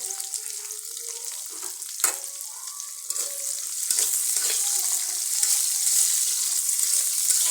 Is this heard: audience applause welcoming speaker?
no